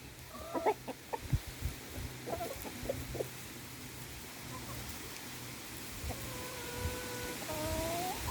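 Chickens and a rooster in a coop of about a dozen rescue hens cluck in scattered bursts, with a longer rising call near the end over steady rain-like background noise.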